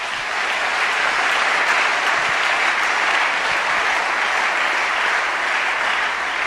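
A church congregation applauds the Lord, dense, continuous clapping from a large crowd, steady and loud throughout without a break.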